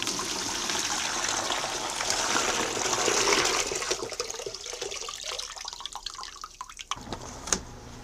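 Water poured out of a Sealskinz waterproof sock splashes steadily for several seconds, then thins into scattered trickles and drips, with no one talking.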